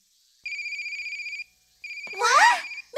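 A mobile phone rings with a bright electronic ringtone in two bursts separated by a short pause, clear and close, and a voice cuts in over the second burst.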